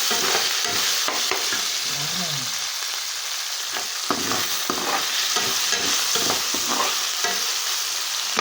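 Chicken frying in a pan gives a continuous loud sizzle, broken by repeated scraping and clattering as it is stirred in uneven bursts throughout.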